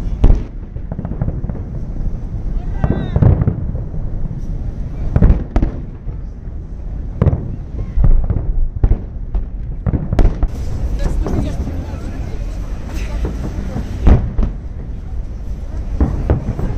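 Fireworks go off in a salute display with repeated booming bursts and crackling pops at irregular intervals, loud and fairly near, while people talk and call out beneath the bangs.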